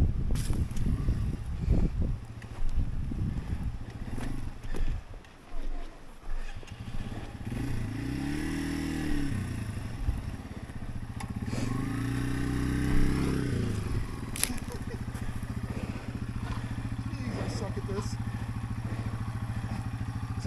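Dual sport motorcycle rolling downhill on desert terrain in first gear, engine braking with a low steady drone that rises and falls, plus rattling and clatter from the bike over rough ground.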